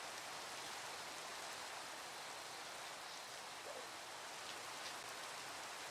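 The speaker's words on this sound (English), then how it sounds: "We're in the Constitution, it starts raining." Video game rainfall: a dense, even hiss of rain pouring down steadily and unbroken, moderately quiet, with no voices over it.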